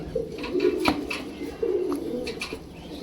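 Bombay pigeons cooing nearby in soft, repeated throaty phrases, with a few sharp clicks and flutters between calls.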